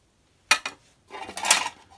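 Metal parts of a German mess kit knock together, two sharp clanks followed by a longer scraping rattle as the pieces are handled close up in a quiet room.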